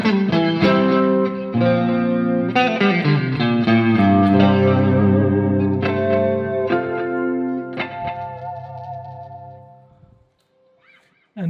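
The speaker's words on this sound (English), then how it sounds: "this is here where you really hear the single coilness of the pickup" Electric guitar played through its single-coil neck pickup with effects, ringing chords and picked notes sustaining with chorus-like shimmer and slight grit, loud and alone, then fading out near the end.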